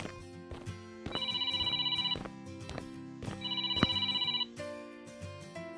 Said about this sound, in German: Oh, das Telefon klingelt.